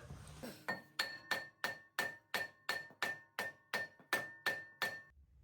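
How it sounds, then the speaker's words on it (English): About a dozen evenly spaced hammer strikes on the back of a stuck brake rotor on a Ford F-150, each a bright ringing metal clang, steady and close. "all that hammering amounted to no progress at all"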